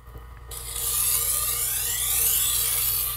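A kitchen knife drawn gently through a diamond wheel sharpener, a faint quiet start followed by a single sustained gritty rasping scrape of about three seconds, close up and without speech.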